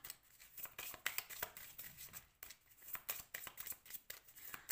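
Playing cards shuffled and drawn by hand, a close run of rapid riffling bursts and sharp flicks in irregular rhythm, with no voices.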